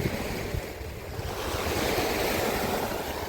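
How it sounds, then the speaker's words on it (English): Strong wind roars and buffets the microphone on the Pamir Highway, mixed with the rush of surf or freezing water nearby. "I don't know if you can hear me over the wind"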